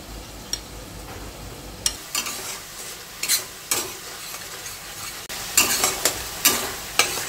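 Tomatoes sautéing in a pan for a mushroom curry, a steady sizzle broken by repeated scraping stirs of a spatula, close and fairly loud, with no talking.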